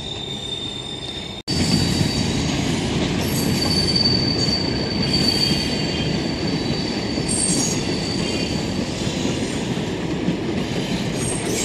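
A Kollam–Sengottai passenger train, with engines at both front and rear, crosses the Kannara Palam bridge near Thenmala. It makes a loud, steady rumble with wheel squeal throughout after a sudden start.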